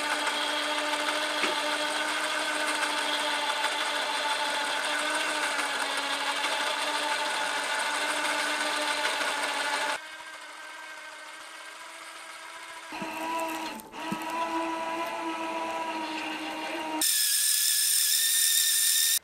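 Hitch-mounted electric winch with synthetic cable pulling a load sideways, a steady high motor whine running continuously, then dropping and shifting pitch in several stretches near the end.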